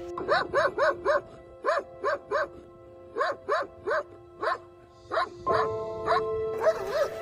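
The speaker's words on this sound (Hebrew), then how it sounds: "נובחים את נשמתם, בלי קול ובלי מי שיענה ויעזור" Neglected dogs at an animal rescue farm bark in a steady series of sharp, close barks, pausing briefly between bursts, with a high tone humming underneath.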